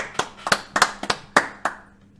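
Hands clapping after a song, six or seven sharp close claps in an uneven rhythm that slows and fades out.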